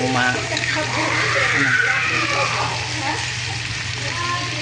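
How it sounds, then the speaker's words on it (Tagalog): Carrots and potatoes frying in hot oil give a steady sizzle with a low hum throughout, a voice speaking faintly over the crackle. "inuna ko yun pag prito yung carrots at saka patata"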